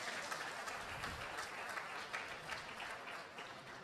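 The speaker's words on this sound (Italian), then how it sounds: "E un grande applauso a Tassinari perché..." A conference audience at an event on beef quality gives a dense, continuous round of applause. It sounds fairly faint and distant and holds steady for a few seconds.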